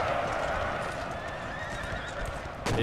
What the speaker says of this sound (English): In goes the British cavalry as well, on Ontario light dragoons here